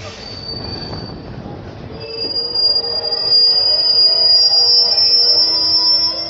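Passenger train carrying kanwariya pilgrims toward Deoghar, rolling along with a rumble that gives way to loud, sustained high-pitched wheel squeal growing stronger and holding through the second half.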